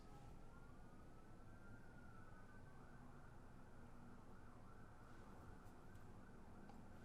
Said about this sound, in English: we can hear that the cops' sirens are going on in the background